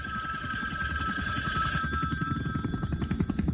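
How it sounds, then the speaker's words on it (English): An old-style telephone bell ringing continuously with a rapid metallic trill, steady and fairly loud, with no voices over it. "Suddenly, the telephone started ringing."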